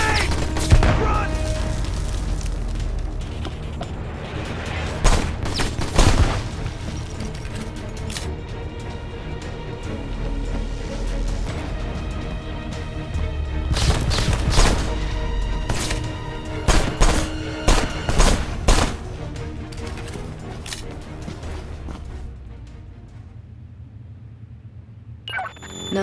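Gunfire and explosions in the video game Left Alive, scattered bursts of shots and booms at varying distances, with a cluster of sharp reports near the middle and more toward the end, over game ambience and voices.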